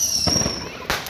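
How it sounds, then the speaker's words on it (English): Roman candle fireworks firing outdoors: a loud crackling burst with a whistling streak, followed by another sharp pop near the end, all close and dense. "Oh, Roman candles. Roman candles."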